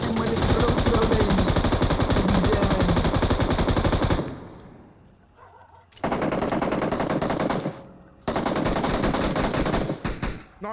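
An SLR rifle fires in a battle royale video game in long, loud, rapid bursts of gunfire, broken by short pauses and near silences, with game audio up close.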